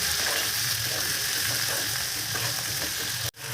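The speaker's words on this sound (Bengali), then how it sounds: "সবজিগুলো যাতে খুব ভালো মতো তাড়াতাড়ি ভেজে যায়" Vegetables frying in a pan with salt added, a steady broadband sizzle with stirring scrapes throughout, close and fairly loud, cutting off abruptly just before the end.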